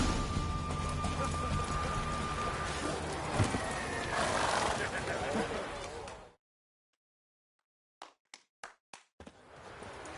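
Roach, a horse in the video game The Witcher 3, whinnies and clops her hooves over a busy layered game soundscape, followed by a sudden silence and then a few sharp separate hits.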